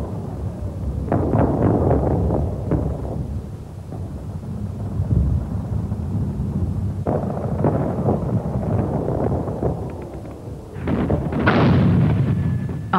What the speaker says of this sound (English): The camera was turning at the moment the target was hit by high explosives.